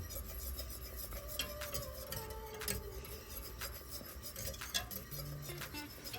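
A spoon stirring gelatin in a pot, producing faint scraping and light clinking against the metal, soft and continuous with no voices.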